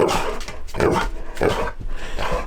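A dog lets out several short, close barks or woofs on command in rough succession, loud and near, with no other sounds.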